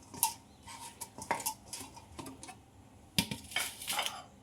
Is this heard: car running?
no